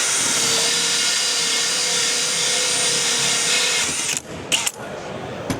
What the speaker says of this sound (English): We're cutting with this external hole saw.